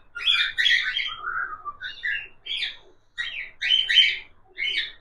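Cockatiels kept in breeding pairs chirp and whistle in bright, clear bursts, several short calls close by with brief pauses between them and no talking.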